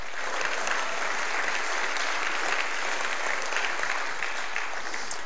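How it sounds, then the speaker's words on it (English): A church congregation at a Sunday evening service on Maui claps hands steadily, a dense, continuous wash of applause that fills the whole stretch at a constant level without any talk over it. "Clap your hands again."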